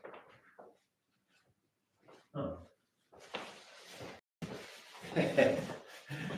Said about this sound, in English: And dogs that are barking and nothing.